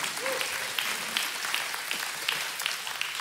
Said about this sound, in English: How about a round of applause for the Buttermore family?